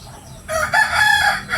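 A rooster crows loudly and close by, one drawn-out call that follows a short quiet moment.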